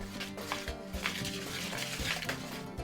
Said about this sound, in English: And then I'm going to give that a good stir.